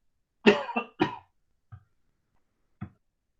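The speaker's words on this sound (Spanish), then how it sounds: "Disculpen que estoy con un poquito de tos." A quick cluster of three close coughs, followed by two faint throat sounds spaced out in silence.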